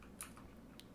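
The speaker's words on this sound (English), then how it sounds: "Now you hear the click clack of my keyboard." Computer keyboard typing at a desk, a few quick key clicks close by over a quiet background hum, with no talking.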